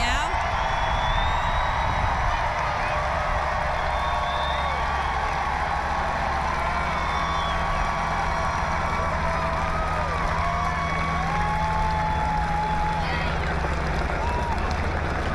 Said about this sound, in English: As you can hear, the crowd is cheering.